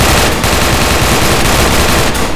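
Rapid gunfire from a weapon in ARMA 3, a dense, loud and continuous burst of shots filling the whole moment with little pause.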